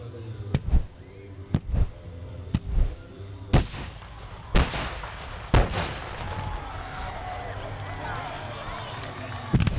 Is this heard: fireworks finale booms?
yes